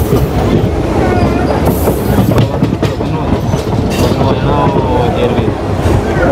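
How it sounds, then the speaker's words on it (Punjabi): A passenger train on the Jalandhar to Hoshiarpur line runs loud and close, with a continuous heavy rumble and rhythmic rail clatter and occasional squeals throughout. "ਉਹ ਟ੍ਰੇਨ ਜਿਹੜੀ ਆ ਉਹ ਖੁਰਦਪੁਰ ਜਾਂ ਜਿਹਨੂੰ ਕਹਿੰਦੇ ਆਦਮਪੁਰ ਪਹੁੰਚ ਚੁੱਕੀ ਹੈ"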